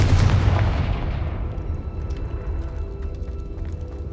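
A Confringo fire spell explodes in Hogwarts Legacy, a heavy booming blast up front that rolls off into a rumbling, crackling tail with no talk over it.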